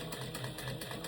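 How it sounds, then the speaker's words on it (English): A sewing machine runs steadily while top stitching a skirt seam, a continuous mechanical hum with a faint repeating needle rhythm through the whole short stretch, close and fairly quiet. "this machine does a great job of top stitching"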